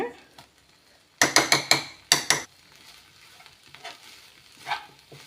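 Mashed green gram with sugar and coconut is mixed in a pan, with a quick burst of several loud spoon scrapes and knocks, then quieter occasional stirring sounds nearby.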